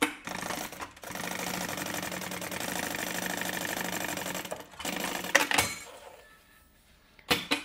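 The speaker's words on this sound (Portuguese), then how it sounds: "E agora a gente vai costurar esse último aqui, uma costurinha retinha aqui." Sewing machine stitching a straight seam on a small cosmetic train-case bag, a fast, even mechanical whir and patter running for several seconds, briefly pausing, then stopping with a few clunks, close up and alone.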